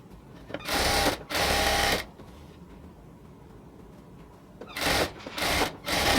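Sewing machine stitching salwar pant fabric, running in three bursts of about a second each with quiet pauses between them, close and loud.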